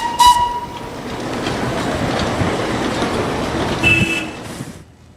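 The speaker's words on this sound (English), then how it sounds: "The tiny four-wheeled steam locomotive is a living legend of the 19th century" A tiny four-wheeled steam locomotive train rumbles steadily past with a rushing, rattling noise, while a short whistle sounds at the start and again near the end.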